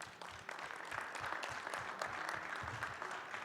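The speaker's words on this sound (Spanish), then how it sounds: "Un aplauso," An assembly audience at a weekly political meeting in Mexico applauds in a continuous, fairly soft wash of clapping that holds evenly without any talk.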